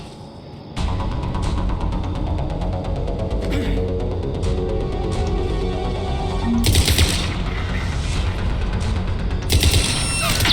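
Sustained gunfire from Cerberus troops and snipers in the video game Mass Effect 3, dense rapid bursts and booms running nearly continuously, loud and close, with sharper cracks breaking through.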